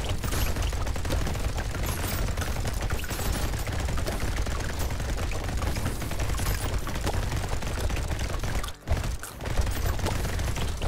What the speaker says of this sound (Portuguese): A metralhadora, ela é uma arma, né?